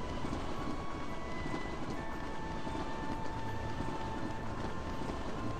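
Steady, dense rumble of a train in the video game Kingdom Hearts 2, a continuous rolling clatter with faint tonal hum, constant and close throughout with no voices.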